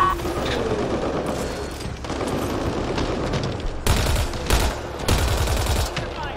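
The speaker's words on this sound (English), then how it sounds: "this is probably where the shots are coming from" Sustained gunfire from the video game Mass Effect Andromeda, a dense, loud clatter of rapid shots with sharper bursts of heavier blasts toward the end.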